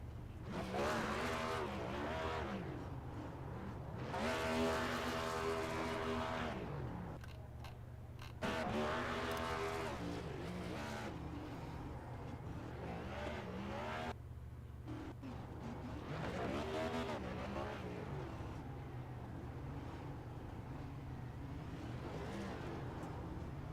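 A simulated race car does a burnout in an iRacing Cup Series event at Texas, its engine revving loud and sustained with rising and falling harmonic sweeps and tire squeal mixed in, continuous throughout.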